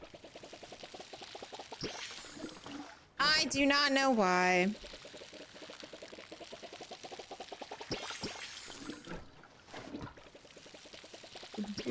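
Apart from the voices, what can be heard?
watering can pouring water in the video game Palia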